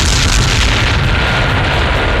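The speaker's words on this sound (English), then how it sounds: "Massive explosion on the ground." A massive ground explosion in the combat flight video game Ace Combat 8 rolls out as a loud, continuous booming roar with deep rumbling low end and crackling debris, filling the whole moment without talk.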